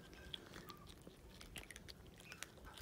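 Faint, close-up crunchy chewing and biting sounds, irregular small clicks and smacks over quiet background noise.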